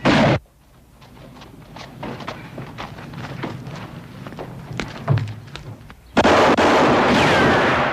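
Rapid gunshots crack and thump through a western film shootout, with scattered single reports and quick bursts over several seconds, bracketed by louder, denser blasts of fire at the start and end.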